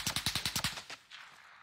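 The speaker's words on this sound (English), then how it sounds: "We're taking fire." Rapid automatic gunfire in a shooter video game, a burst of about seven sharp evenly spaced shots followed by a couple of fainter trailing reports, loud and close with no talk.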